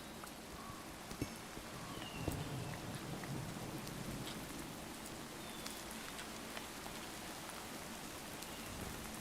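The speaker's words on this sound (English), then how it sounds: "I like the rain noise. That's actually pretty good. That's super realistic." Rain in the video game Minecraft falls as a steady, soft patter of drops with a continuous hiss, faint and even throughout, with occasional small ticks and no talk.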